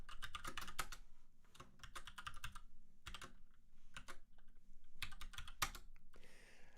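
Rapid clicking keystrokes on a computer keyboard, coming in short bursts separated by brief pauses, close and fairly quiet.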